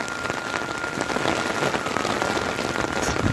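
Steady rain pours down outdoors in Haridwar, a dense, even hiss of drops spattering on surfaces, close and constant for the whole stretch with no talking.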